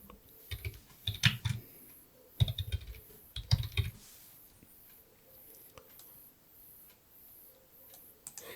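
Someone types an email address on a computer keyboard: quick, close clattering bursts of keystrokes fill the first half, then things go mostly quiet.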